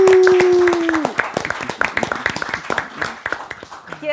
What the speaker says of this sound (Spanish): brindémosle nosotros un aplauso al público que vino.